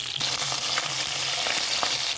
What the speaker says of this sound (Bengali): ঢাকনা দিয়ে ভেজে নেব।